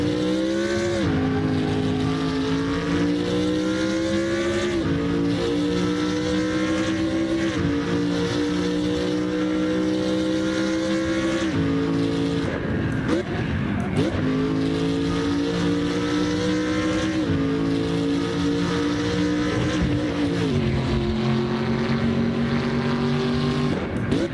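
A BMW race car in the Assetto Corsa racing game driven hard, its engine droning loud and steady with repeated rising revs and quick drops at gear changes, continuous throughout.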